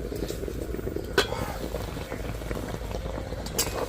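Rice flour boiling under a lid in a pan, heard as a steady low bubbling and simmering hiss with a couple of faint clicks, close and even for the whole stretch.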